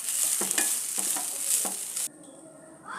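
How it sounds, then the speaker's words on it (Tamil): Grated coconut being sautéed in a pan, with a bright steady sizzle and a few quick spatula scrapes that stop abruptly after two seconds, leaving a faint hiss. "நெக்ஸ்ட்டு தேங்காய் பூவை இதோட ஈரத்தன்மை போகிற வரைக்கும் நல்லா வதக்கி எடுத்துக்கணும்"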